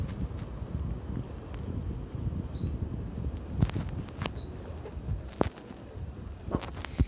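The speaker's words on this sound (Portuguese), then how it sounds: "Meu Deus, seu ventilador tá muito forte" A strong electric fan blows close by, making a steady broadband rush with a few small clicks and bumps and no voices.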